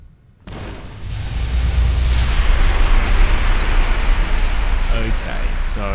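A frag grenade going off in Fallout New Vegas, a sudden loud blast swelling into a long, rumbling roar that fills several seconds, with a few short clinks near the end.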